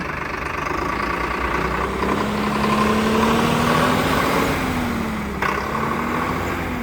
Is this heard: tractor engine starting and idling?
yes